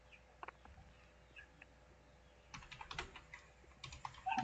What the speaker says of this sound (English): type again your designated password, then click